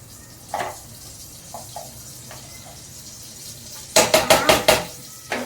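A spoon clinks against a pan as a half spoonful of butter goes in, with several quick metallic taps near the end over a steady background hiss.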